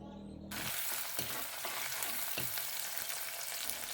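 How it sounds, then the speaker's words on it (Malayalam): Crushed shallots drop into hot oil with mustard seeds and fenugreek and burst into a loud, close sizzle, with a few spatula scrapes through the steady frying. "ചെറിയുള്ളി ഒരു 1-2 സെക്കൻഡ് ഒന്ന് വഴറ്റിയെടുക്കണം"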